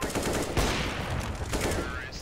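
Counter-Strike: Global Offensive gunfire: several sharp, loud shots in quick succession, with a player taking no-scope shots at a teammate, plus faint game noise in the background.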